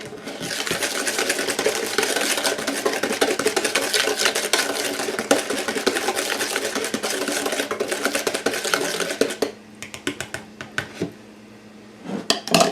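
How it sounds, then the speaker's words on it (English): Rapid metal whisk beating ingredients in a bowl for apple cider doughnut batter, a dense continuous clatter that stops near the end, leaving a few light taps. "I'm going to whisk this together"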